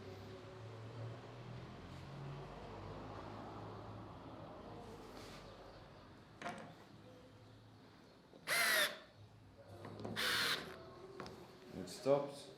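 A Bosch GO smart screwdriver driving 5 mm by 40 screws at low torque settings, heard as several short, loud whirring bursts separated by pauses, with some quiet background noise before them.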